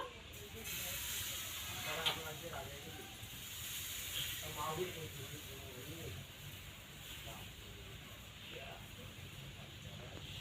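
A steady, faint hiss of wheat-flour dosa batter sizzling on a hot pan continues throughout while a person talks quietly over it.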